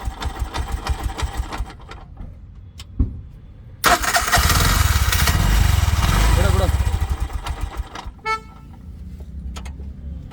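Bajaj auto-rickshaw engine with an earthing problem, first putting unevenly, then starting up loud and close with a steady sputtering run, dropping back to irregular idling, while people talk nearby.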